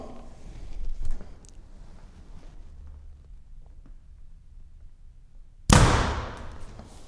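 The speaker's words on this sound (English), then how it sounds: "Let's shoot real close to the bottom." An arrow is loosed from a compound bow through a chronograph in cold weather: one sharp, loud snap of the string and the arrow's release near the end, after quiet handling noises and soft rustles.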